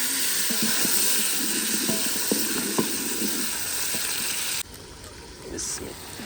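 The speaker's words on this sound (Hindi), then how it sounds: "पहले तड़का भून लेते हैं।" A tadka of tomato, ginger and green chilli sizzles and hisses in hot oil, a steady loud frying crackle with occasional stirring clicks, easing to a quieter sizzle near the end.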